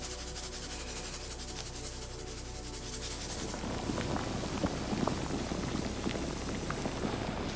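Potatoes in salted water come to the boil in a pan, a steady close bubbling and rolling simmer that continues evenly for several seconds with no talking.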